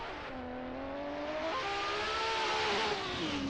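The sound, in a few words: drift car with Nissan RB engine revving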